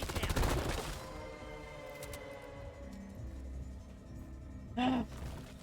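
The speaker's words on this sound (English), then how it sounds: "I just hear you shooting in the distance" Gunfire bursts in a dwarf-themed video game, a dense rattle at the start and then scattered, fainter shots in the distance, with a louder pop near the end.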